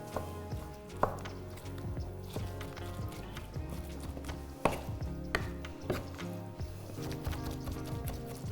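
Knife chopping squeezed spinach on a cutting board for a cannelloni filling of ricotta and spinach, a steady run of close, sharp chops with a few louder strikes.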